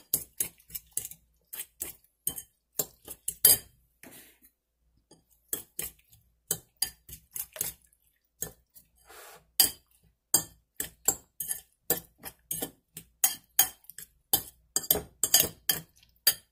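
Green chili and capsicum are stirred in a bowl with a spoon. Irregular sharp clinks and taps of metal against the bowl ring out in quick bursts with brief pauses between them.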